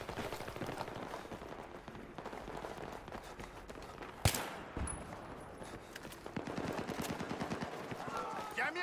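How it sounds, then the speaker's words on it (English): Machine gun fire in the video game Battlefield 3 rattles in rapid bursts at moderate distance, with one sharp loud blast midway, amid game voices and battle noise. "We spotted an enemy machine gunner in your area."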